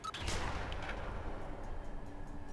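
Guards on free fire in Prison Architect send out a rumbling volley of gunshots, opening with a sharper crack and then settling into a muffled, steady roll of distant fire at low volume.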